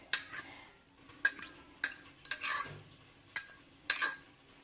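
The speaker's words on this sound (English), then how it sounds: "I'm just going to give that another good mix" Whisk or fork clinking against a pie dish while a French toast egg dredge with half and half is mixed, several sharp taps spaced about a second apart with softer scraping between, close and moderately loud.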